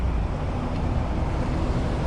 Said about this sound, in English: The water rushing sound.